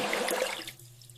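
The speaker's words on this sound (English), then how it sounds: "Flush the toilet." A toilet flushes with a brief rushing gush of water that quickly fades into a soft trickle as the bowl refills, heard close and alone.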